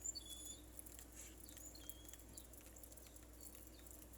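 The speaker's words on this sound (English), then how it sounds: "It's raining." Rain patters steadily outdoors as a soft, continuous wash with faint scattered drops, alone with no talk and high chirps that may be birds.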